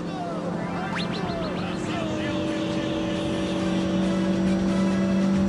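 A Fiat Mobi and a VW Gol race side by side in a pull, their engines droning steadily with rising whine tones as they accelerate through the gears, loud and continuous.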